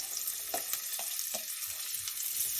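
Purple onions frying in a hot pan while being stirred, a steady bright hiss of oil with a few soft scraping knocks of the spoon early on.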